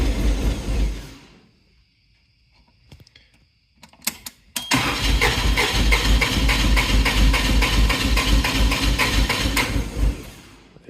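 A propane-fuelled Toyota forklift engine cranks and then catches, running loud and rough with a steady close rumble for several seconds before it sputters out and stalls.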